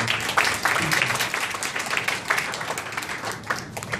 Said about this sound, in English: Again, a warm round of applause for.